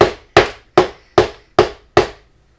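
A hammer drives a nail into wood with six sharp, evenly spaced blows, close and loud, each ringing briefly before the next.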